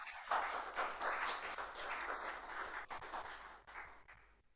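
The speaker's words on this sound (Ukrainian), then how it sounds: "Let's give him a round of applause" An audience applauds a band performer at a United States Air Forces in Europe Band concert class, with steady dense clapping from a crowd that slowly thins and fades out, and no talking.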